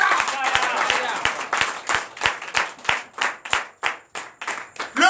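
Rhythmic clapping from a church congregation during a Friday night deliverance prayer service, with steady, evenly spaced claps over a loud blur of voices that thins into crisp, separate hand claps.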